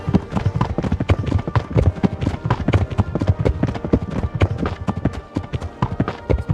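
Horse hooves in Kingdom Come: Deliverance clip-clopping loudly and close, a busy irregular stream of hoof strikes suggesting several horses moving together, heard alone without talk.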